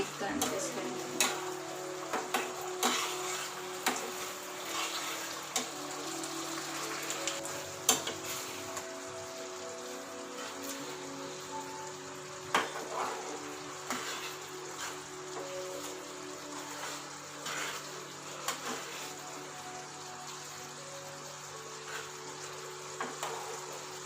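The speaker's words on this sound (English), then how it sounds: "Put it in high flame and cook until you will get thick consistency." Soya 65 sauce bubbles and sizzles steadily in a pan on high flame as it thickens, a continuous frying hiss broken by occasional stirring scrapes and clicks.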